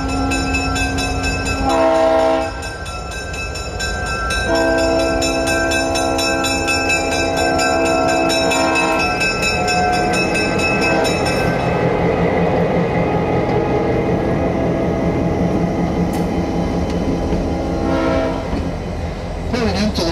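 Burlington Northern locomotives BN 1 and 2 pulling in, loud air horn blasts in several long and short bursts over a rumbling engine, with a ringing locomotive bell in between.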